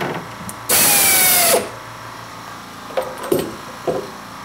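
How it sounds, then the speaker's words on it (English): A tap drill bores to the bottom of a hole in a metal motor clamp for a toolpost grinder. It makes one loud, harsh whirring burst of about a second, followed by a few small faint clicks and taps. "Next up is the tap drill. This will go all the way to the bottom of the hole."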